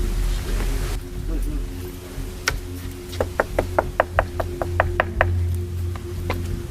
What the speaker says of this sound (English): The officer knocked on the door and waited, but there was no response from inside.